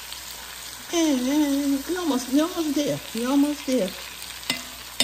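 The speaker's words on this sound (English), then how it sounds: "I'm just stirring it all up." Stirring a Cornish hen cooking in an Instant Pot Dutch oven, soft scraping and sizzling close by, partly under a voice that speaks briefly.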